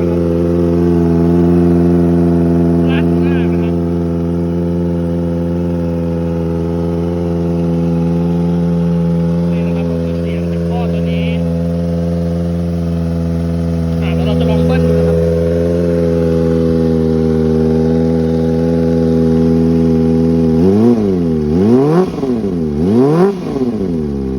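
A motorcycle with a loud Daiwo 99 aftermarket exhaust, baffle removed, idles steadily, then is revved sharply several times near the end, pitch swooping up and down.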